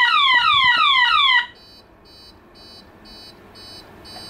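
A fire alarm panel being tested, an Ezerio Plus radio system with a manual call point, sounds a loud repeating sweeping electronic whoop for about a second and a half, then cuts to a quieter pulsing beep that repeats at a steady rhythm.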